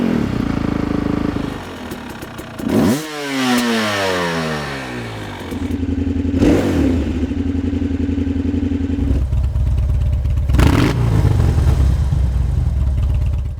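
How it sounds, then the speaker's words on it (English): Motorcycle engine idling with a mechanical clatter, then revved sharply several times, each rev rising in pitch and dropping back to a steady idle, loud and close with no talking. "Give it that healthy rev."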